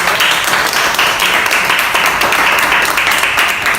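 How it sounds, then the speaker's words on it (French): An audience at a live sanitary-pad product demo applauds a volunteer, a steady loud wash of many hands clapping with no break, close and filling the whole moment. "Acclamons pour papa."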